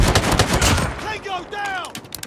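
A Striker shotgun firing in Call of Duty Mobile: a burst of loud, close blasts in the first second, then fading ringing tones and small clicks. Brief game voice lines come through.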